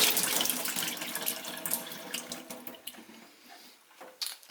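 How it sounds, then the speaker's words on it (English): Brewing solution from a Pinter home brewing device pours and splashes steadily into a drain, gurgling and trickling, then tapering off into intermittent drips and splashes. "we're just going to pour that solution out"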